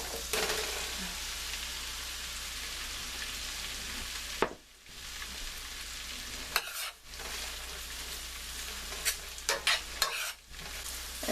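Mushrooms sizzle and fry steadily in a hot pan, with a few sharp scrapes and clatters of a spoon stirring them, close and fairly loud, no talking.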